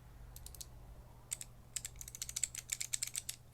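Bursts of keystrokes on a computer keyboard being tested in Notepad after a reboot, sparse clicks at first then a quicker run of close, crisp taps over a faint low hum.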